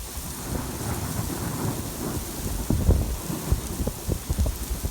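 Heavy rain pours steadily as thunder rumbles low and wind gusts in the Nevada desert, a loud continuous storm with deep rolling booms.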